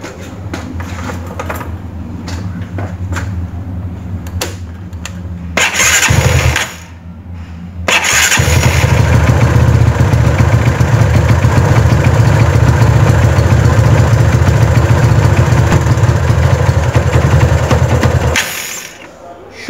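Motorcycle engine being started after assembly: short clicks and a brief first crank, a moment of quiet, then the engine catches and settles into a steady, loud, close idle before cutting off near the end.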